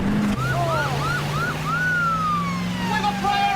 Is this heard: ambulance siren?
yes